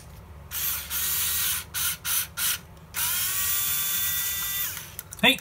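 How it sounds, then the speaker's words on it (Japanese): Small screw being driven with a screwdriver into a plastic part of a Knight 2000 model kit to tap threads, giving a few short bursts of ratcheting, grinding squeaks, then a longer steady drive nearby. "このビスでネジ山を作っておいてから、これをかぶせてネジ止めしていきます。"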